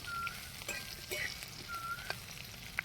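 Okra frying in a pan gives a continuous low hissing sizzle, with a few sharp clicks and light utensil touches scattered through; no one talks.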